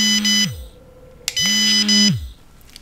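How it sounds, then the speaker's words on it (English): Electronic beeps from a no-shock dog training collar, two sustained tones each ending in a falling pitch glide, separated by a short pause and a click; loud and close, no talking. "It can also beep."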